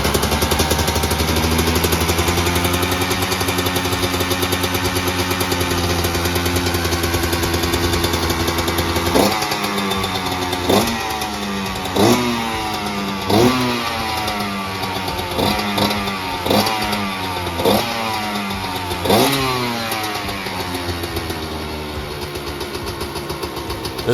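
A Husky CR125 two-stroke motorcycle engine idles steadily and loudly up close, then takes a series of sharp revs that rise and fall, about eight blips over several seconds before settling back to a rough idle.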